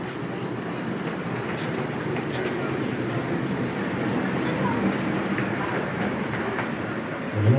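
Peggy, a small locomotive in Great Eastern blue livery, pulls away on the South Downs Light Railway during a gala, making a steady rolling rumble that swells slightly near the end.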